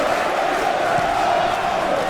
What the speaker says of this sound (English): A huge cheer around Vale Park.